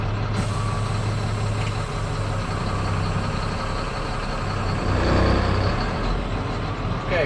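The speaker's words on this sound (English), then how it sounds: "Now I want to test my service brake." A large truck idles with a heavy, steady rumble during an air service brake test; partway through, a brief hiss from the air brakes rises over the engine before it settles again.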